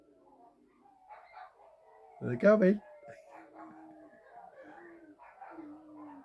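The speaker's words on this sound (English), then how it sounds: "They're going to start howling. You can hear them going, can't you?" Dogs break into a short, loud burst of yelping and howl-like barks midway through, heard nearby, while someone talks steadily before and after.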